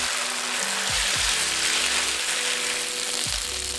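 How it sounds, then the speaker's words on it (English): Tofu skin, garlic and green onions fry together in canola oil, a loud, dense, continuous sizzle close up with low clunks of the pan underneath. "Add the tofu skin, some garlic and green onions all at once and fry until golden brown."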